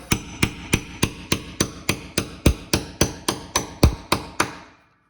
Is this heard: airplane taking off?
no